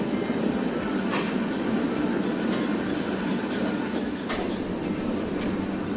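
A passenger train travels from New Delhi to Kanyakumari. A steady, loud rolling rumble fills the carriage, broken by occasional sharp wheel clacks, and no one speaks.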